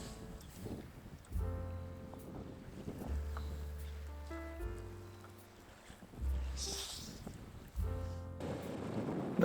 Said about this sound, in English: Now you can see what the wind is developing into, or developed into.